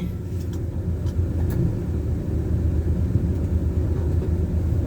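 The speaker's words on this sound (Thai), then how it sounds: "ลองเบิ้ลรอบดูหน่อยนี่มันจะไปรอดไหม" A mud-caked truck stuck in mud runs its engine with a steady, loud low rumble throughout, the revs holding heavy and continuous with no talk over it.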